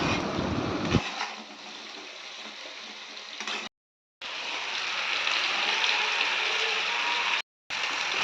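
Vegetables with green chillies, salt and turmeric fry in a pan, giving a steady, loud sizzling hiss across the clip with two brief silent gaps and no talk.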